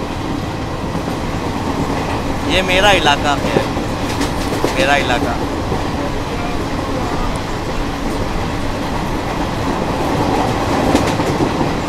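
Azad Hind Express of Indian Railways on the Bilaspur to Nagpur run, rolling along the rails near Bhilai with a steady rumble and wheel clatter throughout; someone talks briefly over the noise.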